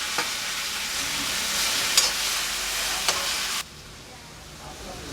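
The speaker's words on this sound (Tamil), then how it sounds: "இப்போ கொஞ்சமாக உப்பு போட்டு வெங்காயம் தக்காளி வதக்கிட்டுருக்கோம்" Onions and tomatoes with a little salt sautéing in a pan for murungai keerai paruppu sambar, an even close sizzle with a couple of utensil clinks, dropping suddenly quieter near the end.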